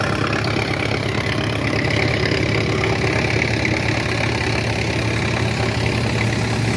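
A tractor engine runs steadily at low idle during chickpea harvesting, a continuous deep, even rumble with a faint knocking texture that stays loud and unbroken throughout, with no talking.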